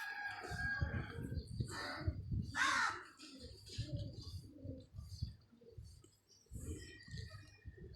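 Pigeons coo and flutter close by, with a burst of wingbeats partway through and steady low cooing throughout.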